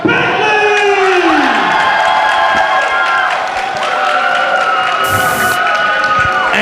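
Wrestling crowd cheering and shouting for Matt Bentley at an NWA Cyberspace Wrestling match, a loud sustained roar of voices with yells and some clapping, wavering in pitch as the chant rises and falls.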